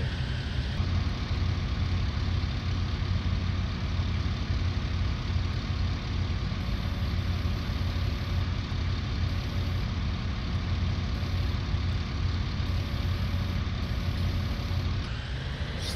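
A farm tractor fitted with bale spikes idles steadily through the whole stretch in an alfalfa field. The low, rumbling engine drone stays continuous and close, with no talking.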